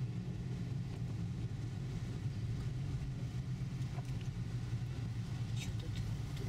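Car driving along an icy, glossy winter city road, a continuous low engine and tyre rumble heard from inside, steady and moderately loud with faint background noise.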